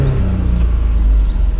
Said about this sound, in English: Let me give it some revs.